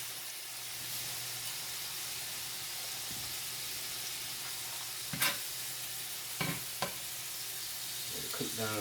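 Onions frying in a pan for a potato hamburger casserole give a steady, close sizzle and hiss, with a few sharp scrapes and clinks of stirring near the end and no voices.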